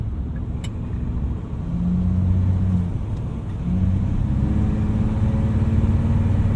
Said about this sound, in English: I love watching old vintage racing with Jag E-types. They just look so incredible cranking around a corner.